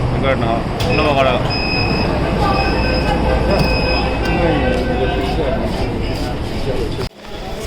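Loud, continuous rumble of a Delhi underground metro train in motion, with whining wheel squeal and people talking over it; the noise drops suddenly near the end.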